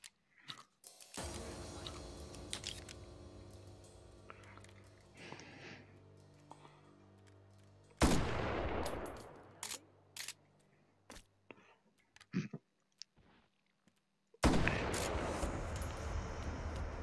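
Shotgun blasts in the VR shooting game Hot Dogs, Horseshoes & Hand Grenades: a few sharp, loud single reports spaced several seconds apart. Between the shots there are quieter mechanical handling clicks and a low hum.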